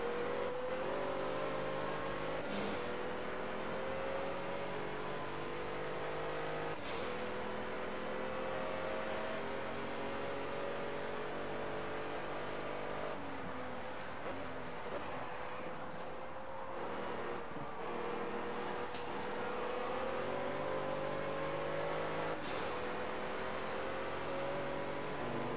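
Pagani Huayra engine in Project Cars racing at Monza, a steady loud high-revving drone with rising pitch sweeps through gear changes, continuous for the whole stretch with no talk.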